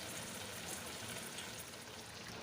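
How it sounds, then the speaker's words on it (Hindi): Water pouring steadily into a pot of browned beef for Sindhi beef biryani, a continuous soft splashing rush, fairly faint and without talk. "अब मैं इसमें पानी डालूँगी।"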